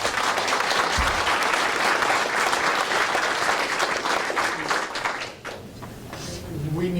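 Heavy audience applause at a board of education meeting, dense clapping that dips briefly near the end before swelling again, with a voice emerging faintly over it.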